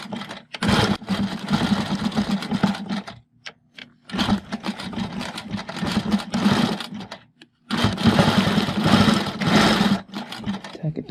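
A longarm quilting machine stitches a zipper leader in three long bursts of rapid, steady mechanical needle chatter, each separated by brief pauses of near silence.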